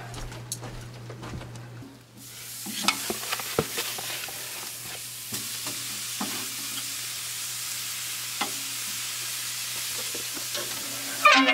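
Steaks frying in a pan at a hunting tent camp during deer season, giving a steady broadband sizzle that swells after a quiet start and holds loud and continuous, with occasional pops and faint stirring clatter, no talk.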